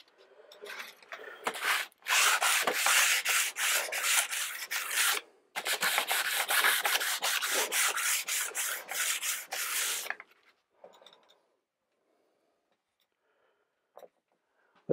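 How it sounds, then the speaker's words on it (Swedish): Steel edges of a mountain ski sanded by hand with sandpaper, giving close, rapid back-and-forth rasping strokes in two long bursts separated by a brief pause, then quiet with faint handling. "Slipar stålkanterna lite med sandpapper."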